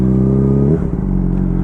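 A motorcycle engine slows as the bike comes to a stop, the loud close rumble dropping in pitch to a low idle partway through.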